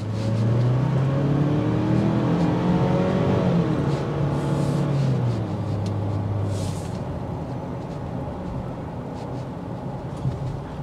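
A 2024 Ford Ranger XLT pulls away on a test drive, its engine rising in pitch as it accelerates, peaking and easing off, then settling into a steady, quieter hum as road noise takes over.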